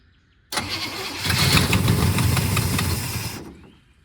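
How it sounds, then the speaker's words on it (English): A 1972 Buick Skylark engine that sat for years cranks and catches with a sudden loud start, then runs rough and unsteady at a fast idle for about three seconds before cutting out, with no voices. "I got the bowl of the carburetor filled up now, so it should idle by itself"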